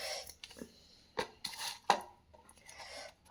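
Onions chopped with a knife in a home kitchen, several sharp separate knife strikes on a board in an uneven rhythm, close and fairly quiet, with no talking.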